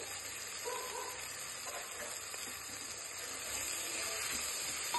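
Ginger garlic paste fries with mint and coriander for bagara rice, a faint, even hiss and sizzle that continues unbroken without speech.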